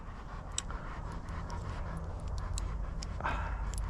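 A dog pants steadily and close by for a few seconds in hot weather, quick rhythmic breaths with a few faint scratchy rustles, alone without talk.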